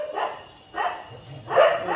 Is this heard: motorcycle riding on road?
no